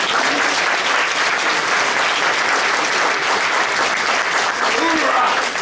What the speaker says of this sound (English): Big round of applause for your mayor,